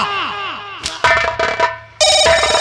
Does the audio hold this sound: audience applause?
no